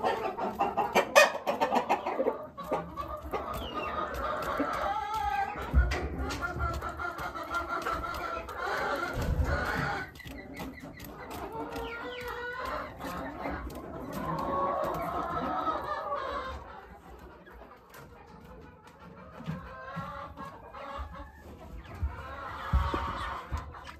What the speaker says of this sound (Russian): у нас всего получается 3 курочки и 1 петушок